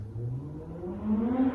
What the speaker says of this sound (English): If you heard the motorcycle noise outside,